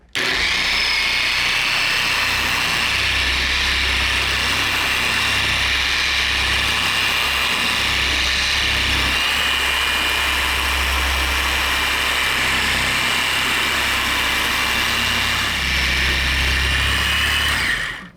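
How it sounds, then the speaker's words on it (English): A cyclo polisher works the oxidized paint of a 1973 Opel GT, producing a loud, continuous motor whir with a steady high whine and low drone that holds without a break throughout. "I'm just going to make slow overlapping back and forth passes like this."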